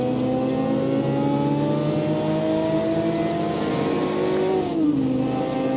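A high-revving V8 race car engine in the game Automation drones loud and steady, pitch climbing gradually through the gears and then dropping sharply as it shifts near the end.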